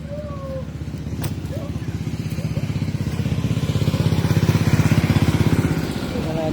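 A Hero Splendor motorcycle engine idles close by with a steady, rhythmic low putter that swells slightly in loudness midway and stays loud and continuous throughout.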